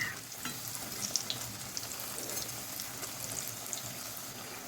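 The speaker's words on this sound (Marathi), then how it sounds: "मी बाकीची भजी पण परत एकदा तळून घेत आहे मस्त गोल्डन रंगावरती आपण सगळी भजी तळून घेणार आहोत" Onion and potato bhaji fritters deep-frying in hot oil, a steady close sizzle and bubbling crackle that runs the whole time with small spikes from stirring, and no voice.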